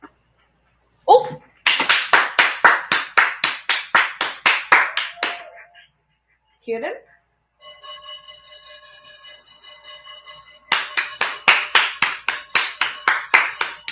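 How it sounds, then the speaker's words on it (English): Bursts of many hands clapping from windows in Astoria, heard in repeated rhythmic rounds, with a brief spoken voice and a pause in between, plus a faint tonal hum during the lull. "Make sure you're clapping, everybody."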